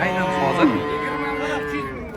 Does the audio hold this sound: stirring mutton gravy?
no